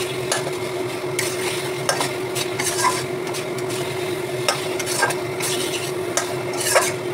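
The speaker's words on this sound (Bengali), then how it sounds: "মশলাটা কষানো হয়ে গেছে, আমি তারপর ভাজা ডিমটা দিয়ে দিলাম" Steady sizzling and frying of masala and fried eggs in a pan with scraping and stirring strokes throughout, close by and fairly loud, no voices.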